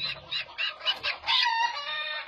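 A native rooster clucks in a quick run of nasal calls ending in a drawn-out note, close and fairly loud, with no talk.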